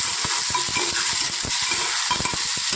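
Finely chopped tomato and onion are sautéed in a hot pan for prawn curry, with a constant loud sizzle broken by quick, irregular scraping stir strokes.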